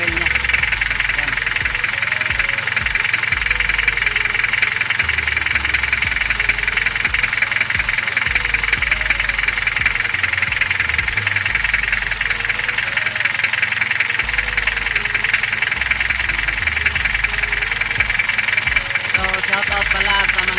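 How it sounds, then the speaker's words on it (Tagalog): A car engine idles steadily while warming up ahead of an oil change, a continuous mid-pitched hum with a faint knocking rhythm running throughout, with occasional talk over it. "Pinaandar na natin, katintay natin na umabot ng 3 minutes ang andar ng makina."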